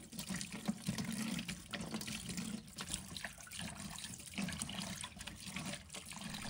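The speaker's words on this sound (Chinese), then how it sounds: "然后用流动的水将排骨彻底冲洗。" Tap water runs steadily into a sink while pork ribs are rinsed under the stream, a continuous soft splashing with small irregular surges, fairly quiet and close, with no voices.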